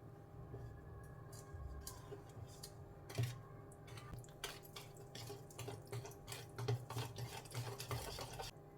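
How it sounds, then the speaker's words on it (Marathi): Rava cake batter with powdered sugar and oil being stirred in a bowl, faint wet swishing with light irregular clicks of the spoon against the sides, with no talk. "पुन्हा एकदा व्यवस्थित मिक्स करून घेऊया"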